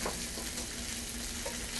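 Three slices of pancetta fry until crisp, a soft, even sizzle that hisses continuously and fairly quietly throughout, with a faint steady hum underneath and no talking.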